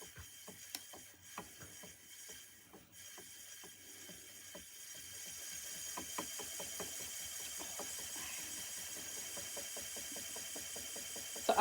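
A Majestic E Spinner electric spinning wheel runs with a soft, steady whir and rapid ticking clicks, close and constant, with no talking.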